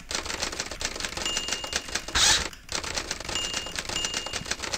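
Rapid keyboard typing in a video game set in a grand hotel, a steady run of dense clicks with one brief louder burst midway, heard alone without talk.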